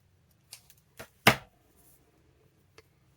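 A few crisp scissor snips cutting through thin paper strips, spaced unevenly with one louder cut in the middle, close and quiet with no talking.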